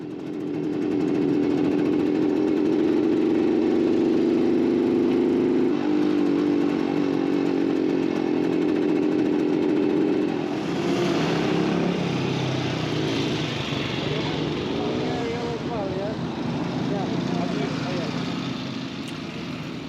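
A vintage BSA Bantam motorcycle running around a tight track, its loud, steady engine drone continuing throughout, the pitch shifting partway as it passes.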